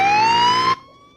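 An ambulance siren wails loudly and close, one rising steady tone that cuts off abruptly after under a second, leaving a faint trailing tone.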